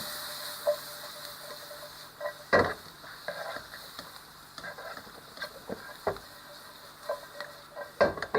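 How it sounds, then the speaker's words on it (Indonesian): Condiments being sautéed in butter or margarine in a pan, a low steady sizzle with scattered scraping clacks of a utensil stirring, close and fairly quiet, no talk. "Kita tumis sampai sedikit layu."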